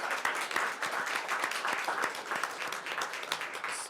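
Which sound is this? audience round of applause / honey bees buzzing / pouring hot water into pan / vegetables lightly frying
audience round of applause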